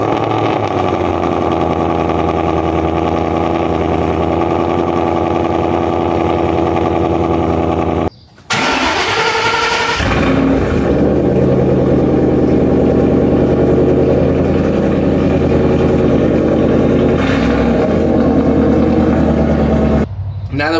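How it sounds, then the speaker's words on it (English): A Ford Shelby GT500 and a Mustang Dark Horse start cold, with a sharp roar as an engine fires and then a loud, steady idle rumble close by, broken by a brief gap and a second startup burst. "you're actually going to go ahead and hear the cold start of the Dark Horse"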